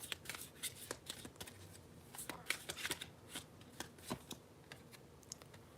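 A deck of twin flame oracle cards being shuffled by hand, giving a steady run of quick, crisp riffling clicks and flutters at close range, with no talking over it.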